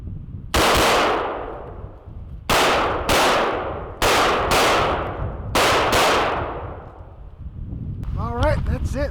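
Rifle gunshots at an outdoor shooting range, seven loud sharp reports in irregular succession, each followed by a long fading echo, and a dog whining at the end.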